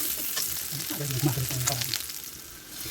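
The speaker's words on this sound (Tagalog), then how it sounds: "so igigisa natin yan ng maigi" Shrimp paste sautéing with garlic and onion in a pan, a close crackling sizzle with a few stirring scrapes over about three seconds, with no talking.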